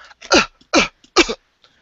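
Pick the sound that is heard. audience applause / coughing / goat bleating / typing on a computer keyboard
coughing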